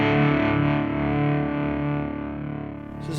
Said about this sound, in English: So this is a tube screamer.